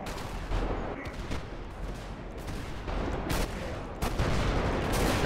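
Explosive RPG rocket fire in the video game GTA 5 during a zombie outbreak, a dense, loud, sustained blast of booming shots and detonations with sharp hits around the middle and near the end.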